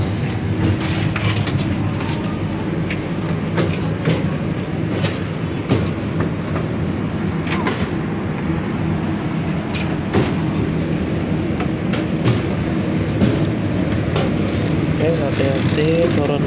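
A train sits at Semarang Tawang railway station with a continuous low rumble, clicks and clunks of carriages, and busy station noise around it, with people talking in the background.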